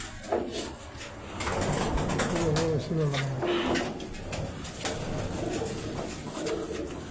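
Domestic pigeons coo from a rooftop loft, with soft, repeated, rounded calls that rise and fall close by over a steady background murmur and occasional light knocks.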